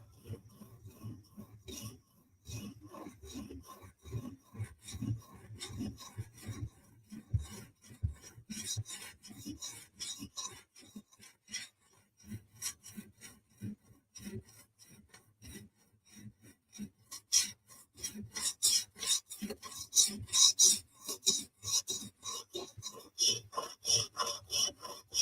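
A ZT 0640 knife being sharpened on a TSProf Kadet makes steady rasping strokes across the stone, close and fairly quiet, rhythmic and growing denser and brighter toward the end.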